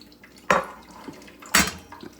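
Walnuts tip into banana bread batter in a bowl with two distinct clattering pours, each followed by a softer knock, in a quiet kitchen.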